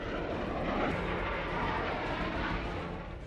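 Loud, steady roar of military jets on a flypast, MiG-29s and Jaguars among a formation of 42 aircraft, a continuous broadband rumble filling the whole stretch with no voices.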